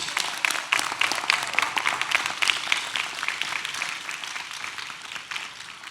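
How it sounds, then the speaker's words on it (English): Live audience at a podcast taping during Essence Fest 2025 breaks into sustained applause, a dense wash of many hands clapping with a few louder nearby claps, steady then slowly easing. "Y'all clap it up for her."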